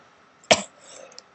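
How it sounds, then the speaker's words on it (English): One short, sharp cough up close, followed by a faint breathy trail in an otherwise quiet room. "I've been coughing and stuff"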